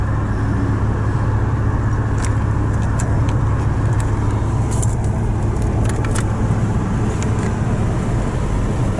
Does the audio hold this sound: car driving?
yes